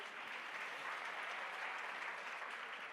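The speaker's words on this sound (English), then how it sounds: "Go ahead and clap" An audience claps steadily in a dense, even round of applause for a few seconds, heard at a distance and fairly faint, with no voices over it.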